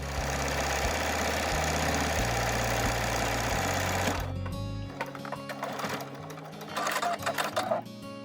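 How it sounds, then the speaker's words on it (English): A sewing machine runs steadily with a low mechanical hum and rapid needle rhythm, then slows and stops with clicks and small handling noises. "I'm using a straight stitch on my sewing machine for this step."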